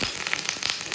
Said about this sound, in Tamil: இப்போ கருவேப்பிலை போட்டு கருவேப்பிலை பொரிஞ்சதும்